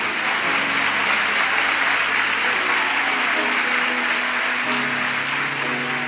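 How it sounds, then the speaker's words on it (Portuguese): A church congregation applauds in praise, broad continuous clapping holding at an even level throughout without pause. "Você pode aplaudir o Senhor por isso?"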